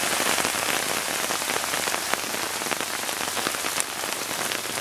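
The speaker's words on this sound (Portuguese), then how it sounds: "já passa de 48 horas de chuva aqui em Maringá, em Sarandi" Heavy rain pours down in Sarandi, Paraná, a dense, loud, steady hiss of drops hitting surfaces with scattered sharper splats, continuous and with no voices.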